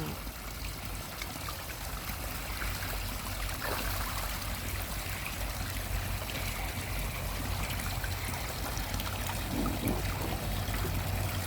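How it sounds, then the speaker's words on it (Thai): Fresh water pours steadily into a plastic tank holding three-month-old catfish, a constant rushing, trickling flow heard close and alone for the whole stretch. "ในบ่อแล้วก็เติมน้ำใหม่ลงไป ก็ 2 วันครั้งนะครับในการเปลี่ยนน้ำ"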